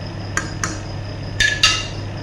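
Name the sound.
stirring lamb kabsa in a cooking pot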